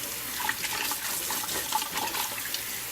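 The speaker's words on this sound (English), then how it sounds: "So I'm just rinsing them off." Canned beans are rinsed under a running kitchen tap, a steady close hiss of flowing water with small splashes and patters throughout and no voices.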